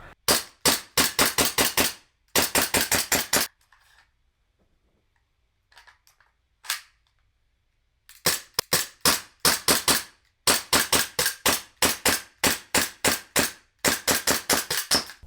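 A SIG Sauer ProForce P229 airsoft BB pistol fires in quick bursts of sharp, loud snapping shots, several volleys separated by a quiet pause with faint handling clicks.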